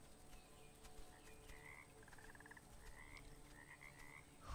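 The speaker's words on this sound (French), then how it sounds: "Bonjour la grenouille." Frog croaking in the video game Bramble, a few short chirping croaks repeating over a soft ambient background, moderately faint with no talk.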